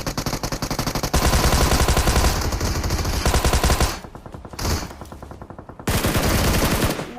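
Heavy automatic gunfire rattles from all directions in a battle royale video game, dense bursts of machine-gun fire and shots running nearly continuously, with brief lulls before loud volleys resume.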